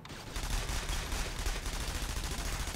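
Sustained turret gunfire in the Splinter Cell: Conviction co-op game, a dense continuous rattle of rapid shots that starts abruptly and holds steady and loud throughout.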